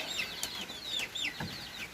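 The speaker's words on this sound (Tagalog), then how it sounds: "Mga manok, mga manok na." Several hens clucking close by, short bright calls in quick succession over a quiet outdoor background.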